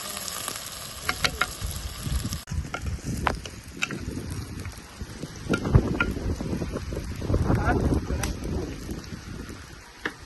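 Onions and chili sauté in a pan outdoors in a garden, a loud, dense crackling sizzle with occasional stirring clatter and faint background noise throughout, no speech.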